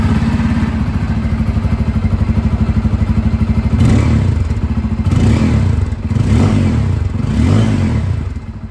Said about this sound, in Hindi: जो डुअल वाला एग्जॉस्ट मिल रहा है इसकी आवाज़ भी आप लोग सुन लीजिए।